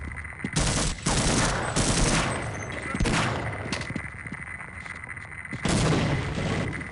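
Rapid bursts of gunfire in Half-Life, loud broadband volleys that repeat several times over sustained game noise, with a voice speaking briefly in between.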